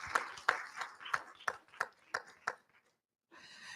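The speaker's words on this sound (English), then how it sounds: "Round of applause for him" Audience applause at a conference event breaks out in a short burst of scattered, uneven claps for about two and a half seconds, then fades to silence before a faint voice returns.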